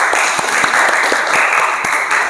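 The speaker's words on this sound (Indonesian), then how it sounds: "Keren-keren, tepuk tangan dulu buat Kak Ayu." Audience applause for Kak Ayu at the Duta Genre Sumenep selection event: steady, dense crowd clapping sustained at fairly loud level throughout, with no voices over it.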